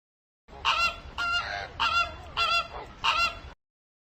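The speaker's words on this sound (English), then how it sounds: "Flamingo." A flamingo gives five short, evenly spaced honking calls, close and clear against silence.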